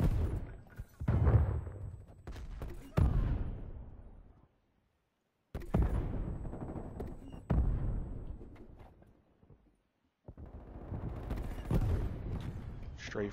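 Explosions from a War Machine grenade launcher in a Call of Duty match: heavy booming blasts in three bursts, each with rumbling tails, separated by brief silences and mixed with mechanical clatter.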